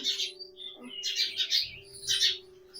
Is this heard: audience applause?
no